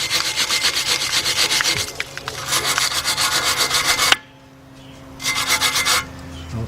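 Rough, rhythmic scrubbing on the brake caliper slider pins of a 2007 Audi A4 Quattro front brake, loud and close in steady back-and-forth strokes, pausing briefly mid-clip and then resuming in a shorter burst.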